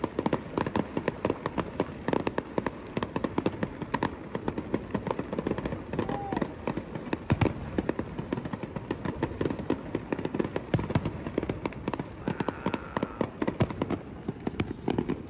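Canada Day fireworks explode in a dense, nonstop barrage of crackles and pops, loud and continuous throughout.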